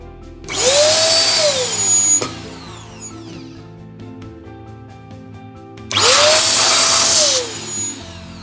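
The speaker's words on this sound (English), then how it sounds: "I used my CompuCleaner Dust Buster." A CompuCleaner Dust Buster electric duster blows dust off a PC in two loud bursts of whining motor noise. Each burst spins up, holds for about a second and a half, then winds down, with a quiet gap between.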